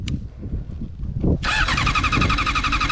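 A crashed motorcycle's engine is cranked and catches, quiet fumbling giving way to a sudden loud, steady running engine close by.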